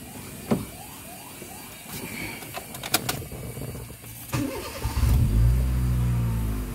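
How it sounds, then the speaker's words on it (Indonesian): A Honda Jazz GD3 automatic engine cranks and fires up after some nearby clicks and mechanical whirs, settling into a steady, close idle hum toward the end. "Kalau kita hidupkan mesinnya,"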